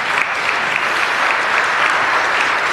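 Audience at a religious gathering breaks into steady, dense applause with some cheering, a continuous loud clapping wash that holds evenly from start to finish.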